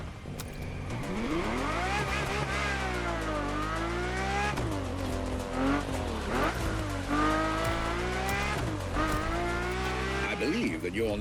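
Ferrari F50 sports car in the racing game The Crew Motorfest, its engine loud and continuous, revving up and down through gear changes with tire squeal, all under a speaking voice throughout.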